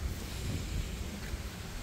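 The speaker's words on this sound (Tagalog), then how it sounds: "Ang lakas ng hangin." Strong wind gusts across an outdoor backyard vegetable garden in cold weather, a steady low roaring rush with microphone buffeting, continuous and fairly loud throughout with no voices.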